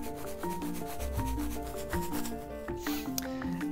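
A BB-filled juggling beanbag shaken back and forth gives a close, gritty rubbing rasp in repeated strokes, steady throughout with no talking, over faint tonal music in the background.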